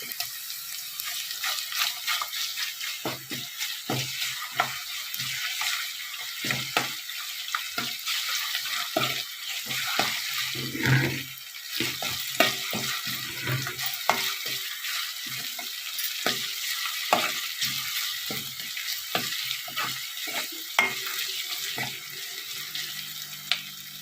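Ginger garlic paste frying for stuffed brinjal curry, with a steady broadband sizzle and repeated stirring clicks and scrapes throughout, moderately close and with no talking.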